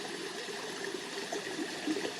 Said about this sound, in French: ramenez maintenant votre attention sur le son de l'eau qui s'écoule